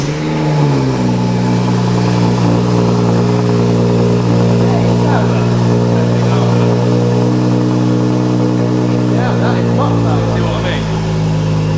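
A BMW M140i with a sports catalytic converter and double resonator delete idles loudly and steadily, its deep exhaust drone holding close and constant throughout.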